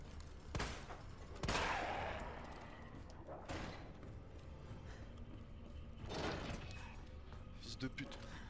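Pump shotgun blasts in Resident Evil 2, several sharp loud shots spaced a few seconds apart, each followed by mechanical pump and reload clatter, with a voice talking in between.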